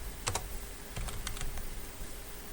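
Computer keyboard typing in short bursts of a few quick keystrokes, then a pause and another cluster of taps, close and clear over a quiet room hum with no one talking.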